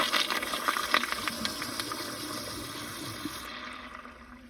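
A 2004 American Standard Cadet pressure-assist toilet flushes with a loud, forceful rush of water that fades as the bowl refills, ending abruptly after a few seconds.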